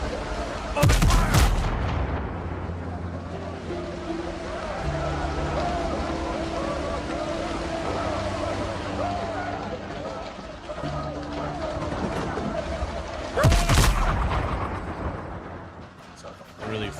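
Ship cannons in the pirate game Windrose fire a broadside, two loud booming blasts several seconds apart over a sustained rumbling sea-and-ship ambience, with someone talking between the shots.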